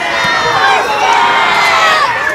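A high school football crowd roars and cheers loudly and steadily after a big offensive run on a night game, a dense wall of voices and shouts with no break.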